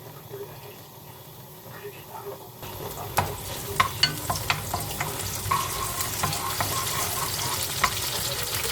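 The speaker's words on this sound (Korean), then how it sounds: "마늘을 볶아요." Garlic sautés in olive oil in a pan for a cream cheese rosé pasta, a quiet hiss that swells into a steady sizzle broken by sharp spatula taps and stirring, with a voice faintly present.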